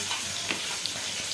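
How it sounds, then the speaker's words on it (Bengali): Rohu fish frying in a pan gives a steady, fairly loud sizzling hiss with a few faint pops, heard alone throughout. "আর এখন মাছ ভাজছি"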